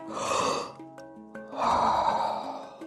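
Sharp, forceful breaths taken close up during Wim Hof style breathing practice, with a strong breath followed by a pause with soft background tones and then another long rushing breath.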